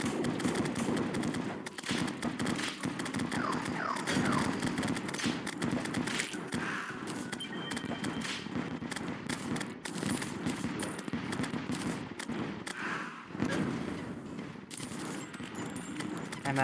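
A weapon fires in Terraria with the Calamity mod during a spooky-themed fight, a rapid, relentless stream of clicky shots and impacts layered over game music, steady and fairly quiet throughout.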